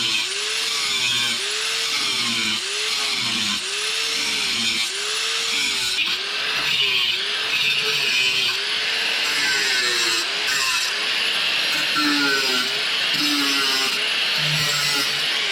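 A power saw cuts through the rocker panel below the floorboard of a Mercury Sable station wagon, a loud rhythmic buzzing with regular strokes and metallic whine running continuously for about fifteen seconds.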